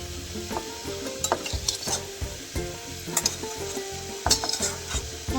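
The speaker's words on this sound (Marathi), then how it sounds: "आता याच्यामध्ये पनीर तळून घेतलेलं ते टाकायचं." Fried paneer is tossed into a pan and stirred, giving a steady sizzle of hot oil broken by repeated scraping strokes of a spoon against the pan, close up with no talking.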